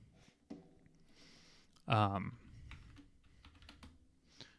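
Computer keyboard being typed on in a quick burst of soft clicks and taps, close by, with one loud vocal exclamation midway.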